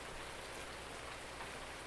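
Steady rain in Farming Simulator 19, a dense, even hiss of drops falling on surfaces, continuous and close with no talk over it.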